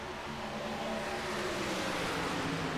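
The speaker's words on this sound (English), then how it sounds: "These trucks are very loud." Race truck engines roar in the iRacing simulator, a dense continuous engine drone with layered harmonics holding steady and loud across the whole stretch, no talking over it.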